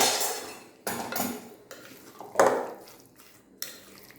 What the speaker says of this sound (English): Now you have to thoroughly mix it.